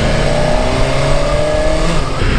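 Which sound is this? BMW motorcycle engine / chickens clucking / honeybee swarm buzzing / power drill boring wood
BMW motorcycle engine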